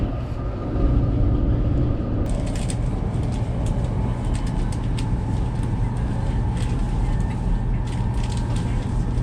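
A train in motion on a trip toward Kaohsiung gives a continuous low rumble and rolling hum from inside the carriage, with faint clicks and rattles over it and a voice briefly speaking.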